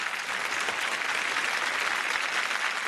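A studio audience on a Marathi TV singing competition applauds after a performance, sustained dense clapping that stays loud and even from start to finish, with no speech over it.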